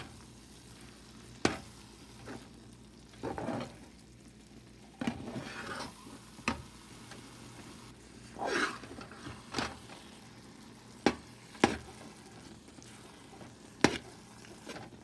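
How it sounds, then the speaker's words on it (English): Apple pickle frying in oil in a pan, with a quiet steady sizzle broken by repeated scraping stirs and sharp clinks of a utensil against the pan, close and fairly soft. "Now total 5 minutes I am frying."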